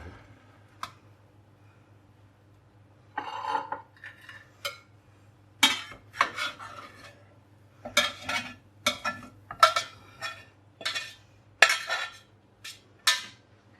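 Metal utensil scraping stuck food from the bottom of a pan with mushrooms from a GroCycle kit, in a series of short, fairly close scrapes and clinks spread over a steady low hum, with no talk.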